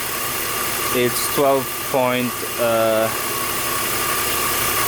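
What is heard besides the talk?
BMW E46 M engine running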